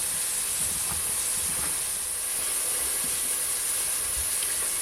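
Courgettes browning in a hot pan for a courgette and sweet potato gratin, a steady, even hiss of sizzling throughout, with faint scattered pops and no talking.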